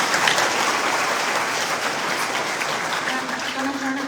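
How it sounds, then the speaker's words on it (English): Applause for a panel at a Rotary International gathering in Houston, a full, continuous wash of clapping from the audience that holds steady throughout. "round of applause for our panel"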